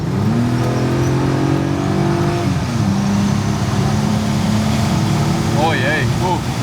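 Car pulling hard onto a Polish motorway toward 140 km/h, engine note rising and shifting through gears with a steady droning hum, heard from inside the cabin while someone talks over it.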